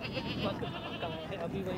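Goats bleat amid the busy din of a crowded livestock market in Sohrab Goth, Karachi, several overlapping calls close by under a constant murmur of voices.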